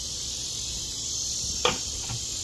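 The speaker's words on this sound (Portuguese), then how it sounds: "que as cigarras estão que estão aí" Cicadas buzz outdoors in a steady, loud high-pitched drone that fills the whole stretch, with a short knock or thump briefly rising over it near the end.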